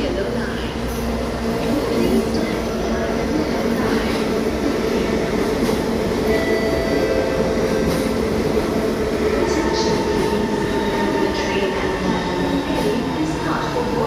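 Metro train pulling into the northbound platform at Choa Chu Kang station in Singapore, a loud steady rumble of wheels and motors with faint squeals, while a platform announcement voice speaks over it.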